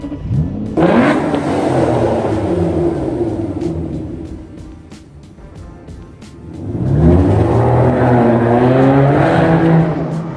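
An Aston Martin DBS engine starts with a loud roar, settles into a steady idle, then revs up again strongly, heard up close with no talking.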